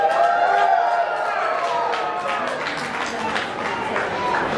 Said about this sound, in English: Let's cheer them on a little bit more.